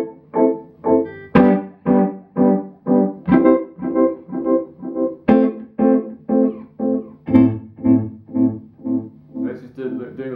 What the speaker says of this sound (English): Now we've got the pentafocal tremolo and the violator delay,